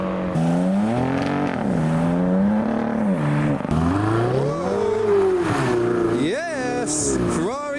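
A modified car leaving a car show in heavy rain revs hard, its engine note dropping and climbing through downshifts before it pulls away, loud and close, with voices talking over it.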